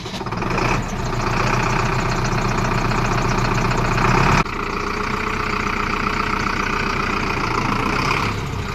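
A 75 HP 4x4 diesel tractor engine idling steadily, a loud, rough, throbbing rumble that runs continuously, with a brief shift in tone midway.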